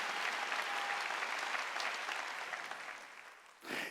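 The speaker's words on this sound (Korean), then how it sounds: "박수로 하나님께 영광을 드립니다." A church congregation applauds during a Wednesday worship service, a dense sustained clatter of clapping that gradually fades toward the end before a brief final burst.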